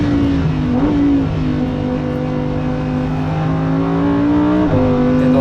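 A Lamborghini Huracán Performante accelerating on the Nürburgring, its engine note rising steadily in pitch through a long pull, dipping briefly at each upshift, loud and continuous from close on board.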